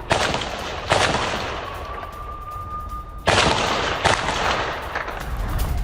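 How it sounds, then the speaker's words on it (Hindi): IDF artillery shells fired in Gaza: heavy booming blasts arrive at irregular intervals over a constant low rumble, loud and sharp-edged, with no voices. "आईडीएफ की तरफ से दागे जा रहे हैं गोले।"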